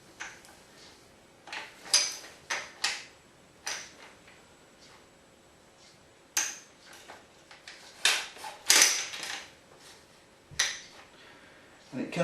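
Browning B525 over-and-under shotgun bolt being worked out of the action, a fiddly job giving a series of short metallic clicks and scrapes at irregular intervals, close and fairly quiet, with brief speech between them.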